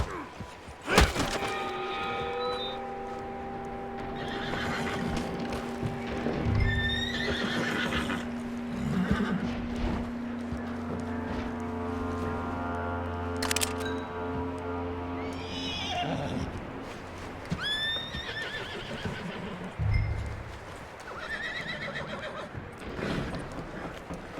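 Horses in Red Dead Redemption 2 whinny loudly several times over clip-clopping hooves and thuds, with game music tones sustained underneath and no speech.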